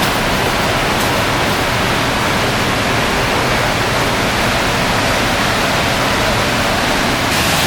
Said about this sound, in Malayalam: വെള്ളം അവിടെ ചാടുന്ന സൗണ്ട് നിങ്ങൾക്ക്